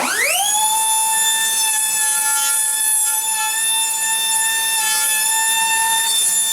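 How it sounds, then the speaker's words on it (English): A router spins at a steady, high-pitched whine while cutting a shallow quarter-inch channel for a back strip in an assembled guitar body. The tone is loud, close and continuous throughout. "even though it's a route cut here, it's only 1/4 of an inch"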